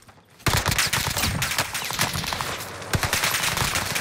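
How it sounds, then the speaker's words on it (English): Sustained rapid gunfire in Call of Duty Vanguard Warzone, loud and close, with dense repeated shots and a few sharper cracks continuing without a break. "Stop shooting me in the back, loves."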